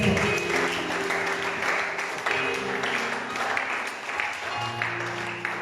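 A church congregation applauds together in sustained, dense clapping that fills the room for several seconds, with steady tonal music or voices running beneath it.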